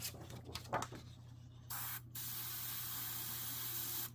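Kaleido Colorworks metal color spray paint hissing from a can in several bursts: short uneven puffs at first, then a long steady spray lasting a couple of seconds, a brief pause and a final burst, close by with a low background hum.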